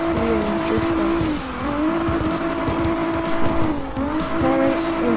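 A car drifting in CarX Drift Racing holds a loud, steady engine drone with continuous tire squeal, the pitch dipping and rising as the slide shifts, with no voices.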